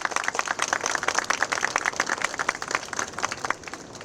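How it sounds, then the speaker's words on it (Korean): Steady applause from a union election gathering for candidates running for office, dense clapping that fills the room evenly and fades slightly near the end. "열심히 했다는 의미로 큰 박수 부탁드리도록 하겠습니다."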